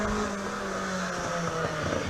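Lotus race car engine running steadily at the Leyburn Sprints, a continuous mid-level drone with a steady harmonic tone and slight pitch wobble, heard alone without talk.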